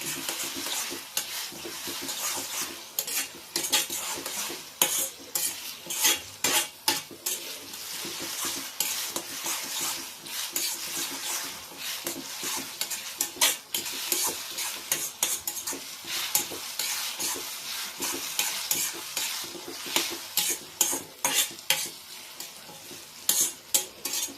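Chillies fry in hot oil for lemon rice, with a steady sizzle under repeated scraping and tapping of a spoon stirring in the pan, close and continuous, with no talk.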